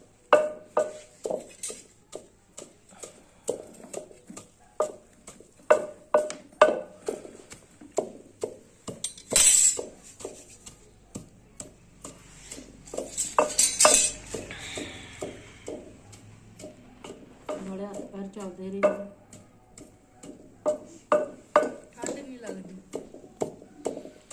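Walnuts pounded for panjiri, a steady series of close, sharp knocks repeated throughout, with a person talking over much of it.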